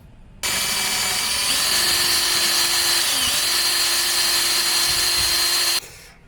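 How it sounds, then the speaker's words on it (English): A power drill whines loudly and steadily through a metal suspension bracket on a C5 Corvette, starting abruptly and running for several seconds with a brief pitch dip before stopping. "I gotta mark it and drill it out so that new bolt can go through"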